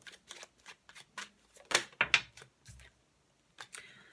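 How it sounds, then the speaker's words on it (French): Oracle cards laid down one after another over a spread of other cards, soft papery slaps and flicks in an irregular rhythm, close and quiet. "Je vais prendre l'oracle G et je vais recouvrir ces 6 cartes."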